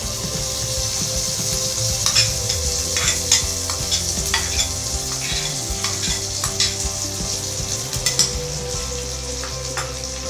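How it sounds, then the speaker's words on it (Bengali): Spice paste for badshahi cauliflower fries on low flame in a pan, sizzling steadily while a spoon stirs and scrapes it in repeated strokes, close and alone with no talk. "এবার মশলাটা আমি খুব ভালো করে কষিয়ে নেব।"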